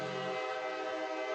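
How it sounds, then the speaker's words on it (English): A loud train passes close to a minor-league baseball field, a steady sustained rumble with bright horn-like tones held for the whole stretch, with no talk. "Loud train going by for the man at the plate"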